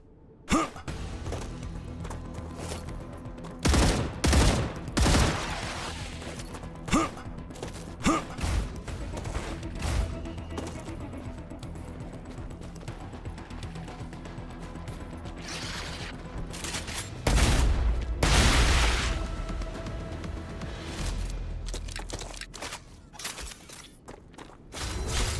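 Video game gunfire aimed at big enemies: rapid, loud bursts of shots and impacts crack repeatedly over a dense, continuous mechanical din throughout.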